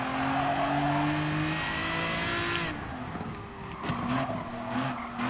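An Aston Martin DBR9 GT1 race car in Gran Turismo Sport on the Nürburgring Grand Prix circuit drones loudly at steady high revs, its engine pitch shifting through a corner with faint tire scrub as it continues on.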